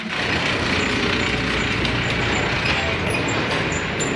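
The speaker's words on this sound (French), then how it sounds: "Le chariot qui ramasse les déchets." A small garbage collection cart rolls past on a busy street, its motor a continuous rumbling drone over general traffic noise, with a few faint high squeaks near the end.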